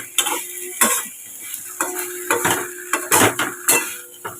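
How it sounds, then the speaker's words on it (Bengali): Spices and onion being stirred into a fish curry in a pan with a metal utensil, scraping and clinking in short bursts with a soft sizzle beneath, close and fairly loud. "মশলা দিয়ে তরকারিটা কষাচ্ছি"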